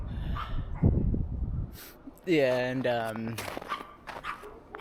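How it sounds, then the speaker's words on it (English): Several dogs seen on a run make a brief, nearby burst of high whimpers and yips. Footsteps and rustling come before it, and a person speaks a few words around it. "And there's some dogs up there."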